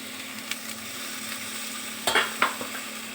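Water from ground lau leaf paste goes into a frying pan, giving a steady low sizzle with a couple of brief stirring scrapes near the end.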